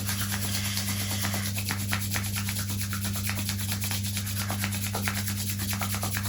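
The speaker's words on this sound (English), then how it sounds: "bring your palms together, rub them, create some friction" Palms rubbing briskly together to build friction and warmth, a continuous close, dry, rasping swish repeating rapidly and evenly under a steady low hum, with no voices.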